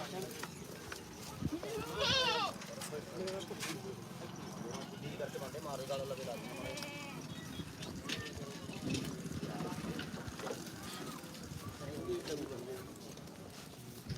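Goats bleating at a busy weekly livestock market in Dhanaula, with several near and far calls over a steady crowd murmur of people talking.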